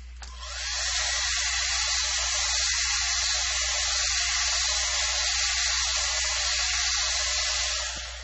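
A handheld dryer blowing on wet acrylic paint, its steady high whirring hum starting abruptly and running loud and unbroken for several seconds before tapering off, with no talking over it.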